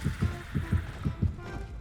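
A steady heartbeat thumps in paired beats in Dead by Daylight, about six in quick succession, low and muffled over a faint hum.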